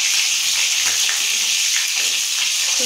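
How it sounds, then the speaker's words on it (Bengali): Fish fries in hot oil in a pan for a Bengali macher jhol, giving a loud, steady, close sizzle and crackle with no speech. "এখন চলছে মাছ ভাজা।"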